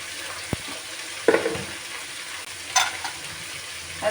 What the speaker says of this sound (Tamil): தக்காளி போட்டு நல்லா வதங்கணும்